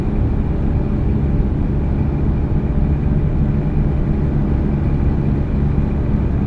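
A truck engine drones steadily in American Truck Simulator while the truck cruises toward Kingman, with a continuous low rumble that stays even and close throughout, without clear rev peaks.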